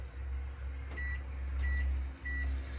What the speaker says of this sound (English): It does have a clock button.